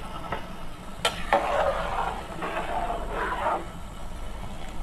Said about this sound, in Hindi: उनमें चम्मच से चलाएंगे